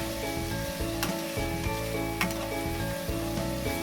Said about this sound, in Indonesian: Mbok De akan masak sampai santannya menyusut dan keluar minyaknya.